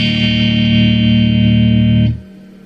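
A loud, sustained electric guitar chord through a Donner Dark Mouse distortion pedal rings through an amp with a touch of reverb, then cuts off abruptly, leaving a faint reverberant tail.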